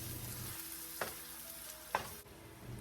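Garlic and lemongrass stir-fry in oil for Vietnamese chili sate, a steady quiet sizzle with two sharp scraping clinks of a utensil against the pan, no talk.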